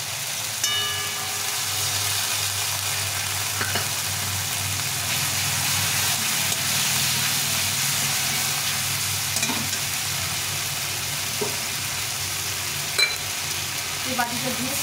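Green chili and ginger paste frying in a pan with softened tomato for a cauliflower and chhana curry, a steady continuous sizzle with occasional soft stirring clinks, close and alone.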